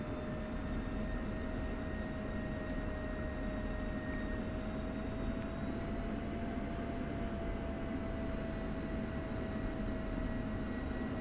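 F-16C Viper jet in the DCS World flight simulator taxiing to parking, a steady, continuous engine whine with a constant tonal hum over low rumble, unbroken and fairly close throughout.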